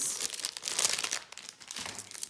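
Cheap, unbranded plastic packaging being crinkled by hand close up: bright, crackling rustles that come in uneven bursts for a couple of seconds.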